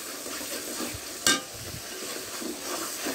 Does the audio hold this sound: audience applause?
no